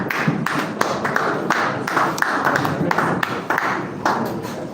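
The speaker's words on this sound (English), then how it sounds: "Please, let's clap." An audience at the launch of a Nigerian trade finance survey claps for a guest coming up to the stage, a steady mass of hand claps running throughout with no pause.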